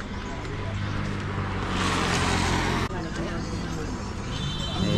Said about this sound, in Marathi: मामांसाठी स्पेशल गाडी आहे आणि आता गाडीत बसलोय